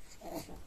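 A dog breathing and snorting up close, a brief wheezy huff of air at the end of a rainy day at home.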